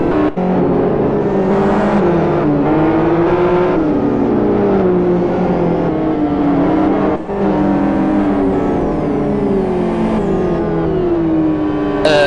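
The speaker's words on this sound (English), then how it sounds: "So one more lap of the safety car conditions and we'll get the race underway." GT1 race cars circulate behind the safety car during a world series round. Several engines drone and rev together in a continuous loud roar, with pitches rising and falling as cars pass close by.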